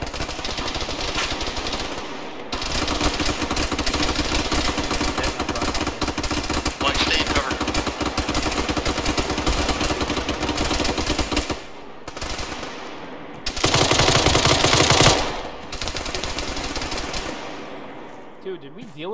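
Sustained, loud machine gun fire in a video game firefight, nearly continuous bursts with brief pauses and one especially intense burst near the end, close to the listener.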